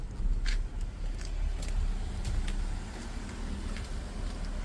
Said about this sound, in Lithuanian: Užkūrus automobilį. Paskui karštas praktiškai iš karto jungiasi, užsikūrė dujomis. Automobilis dirba lygiai,